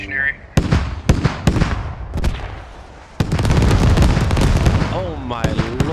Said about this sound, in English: Oh my lord, there's the airstrike.